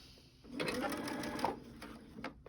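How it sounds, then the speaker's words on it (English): Sewing machine stitching down quilt binding, a steady close mechanical whir running for about a second before stopping, with a brief restart near the end. "I'm just going to sew straight down here."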